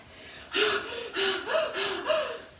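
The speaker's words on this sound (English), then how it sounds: "Are you breathing heavily like that?" Heavy, rhythmic breathing during a seniors' no-equipment fitness workout, several loud gasping breaths in close succession, near and clear with no talk over them.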